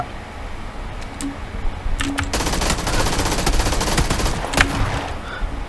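Saiga shotgun gunfire in PUBG: several sharp blasts early on, then a sustained rapid volley of loud shots with a brief flurry near the end, close and unaccompanied by talk.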